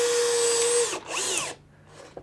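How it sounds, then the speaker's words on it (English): A power drill driving screws into a wall to mount a 3D printed multiboard, a steady close whine that holds, then stops and restarts in a shorter rising and falling burst, ending in quieter handling noise. "make sure I got screws in"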